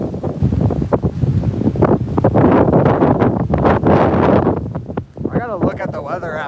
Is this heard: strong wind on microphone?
yes